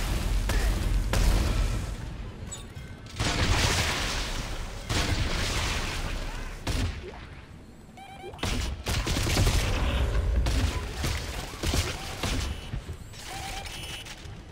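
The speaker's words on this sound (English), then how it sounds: "people are shooting at us" Automatic gunfire from Dead Space 3 keeps up almost without pause, in loud, clattering bursts broken by a few short lulls, with mechanical clanks mixed in and no talking.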